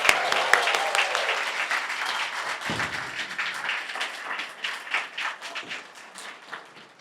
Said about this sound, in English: And one more round of applause for all of our award winners.